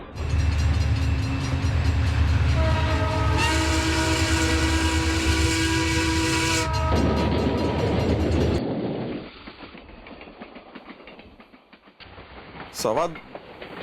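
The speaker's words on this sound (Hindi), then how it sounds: "मैडम 2:15 बजे और ट्रेन तो रुक भी रही है।" A train rumbles along steadily, then sustained high squealing tones rise as it brakes, and the noise fades to a quieter low hum as it comes to a stop.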